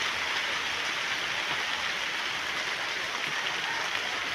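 Heavy rain pours down steadily with a dense, even hiss, drops pattering on surfaces nearby with no break.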